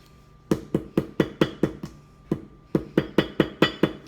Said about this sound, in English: you have to hammer your lemons so all the juices will come out